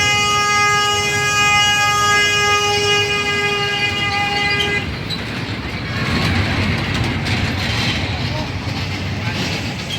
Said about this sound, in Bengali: ছোট্ট একটা টয় ট্রেন মতন আছে